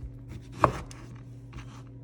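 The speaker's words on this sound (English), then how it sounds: "we're gonna cut into our lemon" A knife slices through a lemon and knocks against the cutting board, one sharp chop followed by quieter cutting sounds, close up with no talking.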